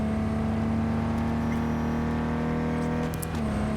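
A car is driven around in Cyberpunk 2077, running at the lowest settings at 1080p: a steady engine drone holds a constant pitch throughout, with light mechanical clatter over it and no voice on top.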